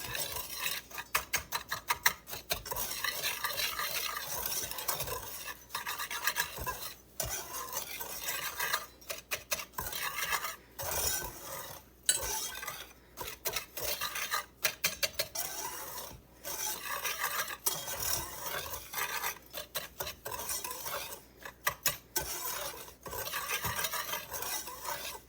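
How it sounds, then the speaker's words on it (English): A whisk beats chocolate pie filling ingredients in a bowl, fast and close, with continuous rasping scrapes and clinks against the bowl in uneven bursts and brief pauses, moderately quiet throughout. "And you just want to whisk it all together."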